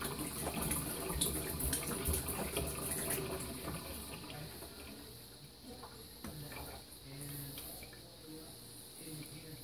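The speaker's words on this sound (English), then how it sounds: "And now we're gonna pour this down the drain." Home brew liquid poured down a sink drain, giving a continuous splashing, trickling rush with a faint high insect-like chirr and background noise.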